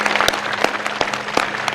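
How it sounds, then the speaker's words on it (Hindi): An audience gives a short burst of applause at a yoga session, a dense patter of many hands clapping together at moderate loudness. "बस जोरदार ताली बता दो"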